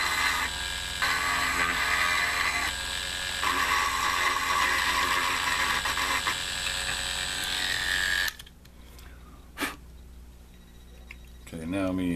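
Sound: rotary tool drill bit roughing up plastic model part

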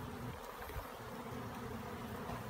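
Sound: feral honey bees buzzing

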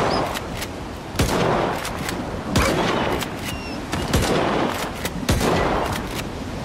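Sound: gunfire in video game S.T.A.L.K.E.R. 2

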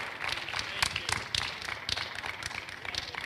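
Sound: congregation clapping during sermon

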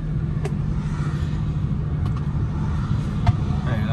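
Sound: tow truck passing on road

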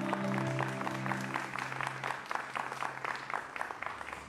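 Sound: applause at church worship event

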